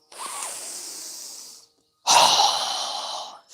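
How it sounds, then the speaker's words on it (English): Two breaths during a yoga breathing exercise: a deep, steady inhale of about a second and a half, a short pause, then a stronger, louder forceful exhale, both close and with no talking. "So go ahead and inhale."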